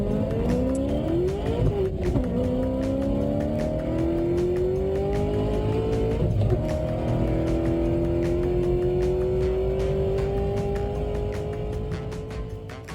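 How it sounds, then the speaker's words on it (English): Muscle cars race down a straightaway in a quarter-final heat, engines roaring loud and steady with rising and falling pitch as they accelerate and shift, no voices over the sustained drone. "Down the straightaway, Matt McDriver was able to take a lead coming down"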